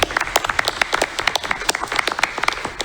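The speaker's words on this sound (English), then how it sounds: "We could clap." Audience applause at a school board of education meeting, a burst of many hands clapping from a room of people, steady and fairly close with dense overlapping claps throughout.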